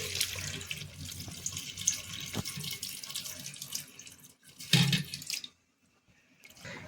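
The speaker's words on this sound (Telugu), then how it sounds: "ఇప్పుడు దీంట్లో చింతపండు పులుసుని యాడ్ చేసేసుకుందామండి ఈ విధంగా" Tamarind juice is poured into a prawn curry in a steady, close liquid stream, splashing and trickling for several seconds before ending abruptly in near silence.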